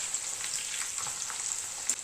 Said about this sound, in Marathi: कोथिंबीर न चिरताच तळून घ्यायची आहे.